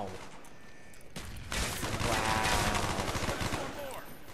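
A MAC-10 submachine gun in the Black Ops multiplayer shooter fires in rapid bursts, including a dense sustained volley, loud and close, with other game noise in the background.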